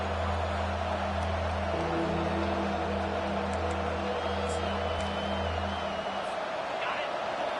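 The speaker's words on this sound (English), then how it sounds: "Decibels rising as the crowd gets behind this defense on third down." Football stadium crowd roaring during a third-down defensive stand in an Ohio State versus Alabama game: a dense, continuous wall of cheering that holds steady throughout, with a constant low hum underneath.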